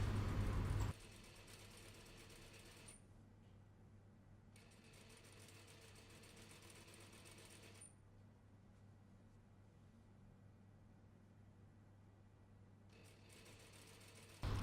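A sewing machine runs an overcast seam along the bottom edge of fabric, producing a steady, even mechanical whir with a low hum beneath it. It stays unbroken for most of the stretch, and no one speaks.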